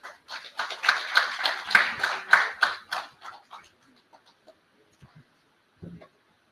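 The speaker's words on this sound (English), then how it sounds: "Kindly clap a little bit." A small conference audience at a formal inaugural session gives a scattered round of clapping during a memento presentation, uneven bursts of claps for about three seconds before dying away into near silence with a few stray sounds.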